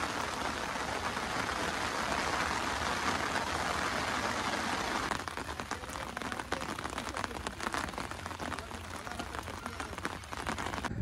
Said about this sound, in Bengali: মাঝে মাঝে বৃষ্টি হচ্ছে